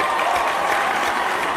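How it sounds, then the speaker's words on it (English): A crowd cheers and applauds in a dense, steady wash of noise throughout, with no pauses. "Why is everybody cheering on me?"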